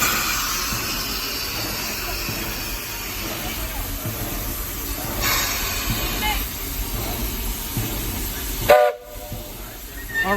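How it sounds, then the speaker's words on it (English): Walt Disney World Railroad locomotive No. 4, the Roy O. Disney, pulls into the station with a steady rumble of rail cars, then a loud burst of steam or whistle near the end, while people talk nearby. "Well, here's our engine pulling in."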